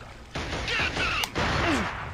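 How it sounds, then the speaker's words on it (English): Heavy gunfire erupts in the first-person shooter Killzone, a dense burst of loud shots and impacts filling the short span with sharp overlapping cracks. "Taking heavy fire!"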